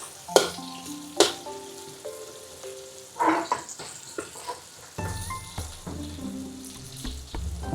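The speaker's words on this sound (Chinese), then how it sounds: "蒜头米，炒一下哈，炒它香先啊，炒它出香味" Minced garlic sizzles as it is stir-fried in a wok, with sharp clanks of a spatula against the metal and bursts of crackling frying close by.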